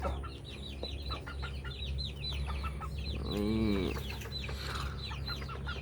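Bantam chickens clucking close by in quick, repeated bursts, with one longer drawn-out call in the middle over a low background hum; a single short word is spoken.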